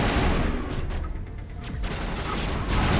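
Rapid gunfire in the Mass Effect Legendary Edition video game, a dense continuous fusillade of loud shots with booming impacts, sustained throughout without a pause.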